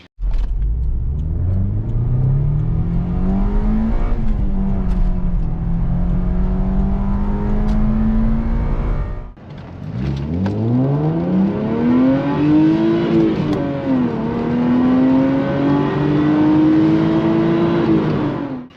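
A 1994 Toyota Celica GT 2.0 16v or Ford Probe 2.5 V6 accelerates hard through a 0 to 100 km/h run, engine pitch rising through the gears with a brief gap at a shift, loud and close throughout.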